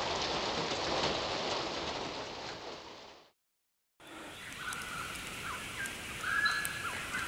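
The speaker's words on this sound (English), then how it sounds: "the precious rain started to fall" Rain falls on a dry bush property during a storm, a dense steady hiss of drops that cuts out briefly, then returns lighter with scattered drips and faint bird calls.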